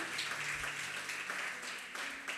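Church congregation applauding during a worship service, a steady broadband wash of many hands clapping together, sustained and fairly loud throughout with no voices on top.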